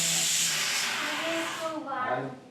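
Steam hissing from a pressure cooker in a home kitchen, a loud continuous broadband hiss that fades out after a couple of seconds, followed by faint background voices.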